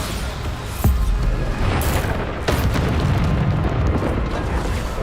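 Bombarda spell blasts in Hogwarts Legacy on Xbox Series X, loud booming explosions with sharp impacts about a second apart over a continuous rumbling din of in-game combat.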